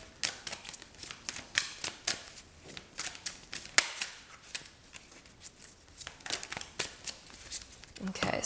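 Tarot cards are shuffled close up for a psychic reading, giving irregular crisp snaps and riffling flicks, and a quiet voice talks now and then between them.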